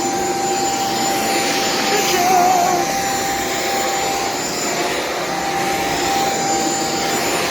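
A Shark Vertex vacuum cleaner runs on a hard floor with a steady, loud motor whine and airy rush, holding constant throughout.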